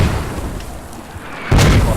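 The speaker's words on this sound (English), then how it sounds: "Enemy mortar." A single heavy enemy mortar shell bursts in a flight-combat video game, its loud broadband blast arriving abruptly near the end after a stretch of low rumbling background noise.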